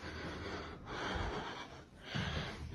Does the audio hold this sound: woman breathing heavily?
yes